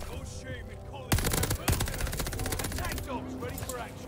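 Automatic gunfire in the shooter Call of Duty Vanguard, a loud sustained burst of rapid rattling shots with a couple of sharper reports at the start, heard close against a background of game ambience.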